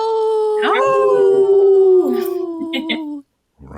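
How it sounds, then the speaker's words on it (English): A wolf howl rings out loud and near, one long sustained wavering cry that falls slightly in pitch, with a second overlapping howl joining briefly before it fades and cuts off. "That was a good howl."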